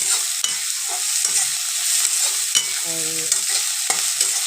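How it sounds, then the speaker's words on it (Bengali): Chopped onions fry and sizzle in a pan for a vegetable chop, with a steady loud hiss and several stirring scrapes and clinks, close by, as a voice speaks briefly. "আর পেঁয়াজ কুচি দিয়ে দিলাম, আর একটু ভালো করে পেঁয়াজটাকে একটু ভেজে নেব লাল করে।"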